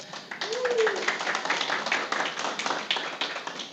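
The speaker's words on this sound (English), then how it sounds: "So once again, a huge round of applause for both the teams." Applause for both teams at the grand final of a corporate cup cricket tournament, a steady patter of clapping heard faintly with talk running over it.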